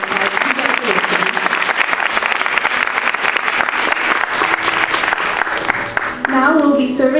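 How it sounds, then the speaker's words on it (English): Concert audience in an auditorium applauds Carnatic music performers with loud, sustained clapping for several seconds, then the clapping fades as a voice starts speaking near the end. "Let's give them all another round of applause."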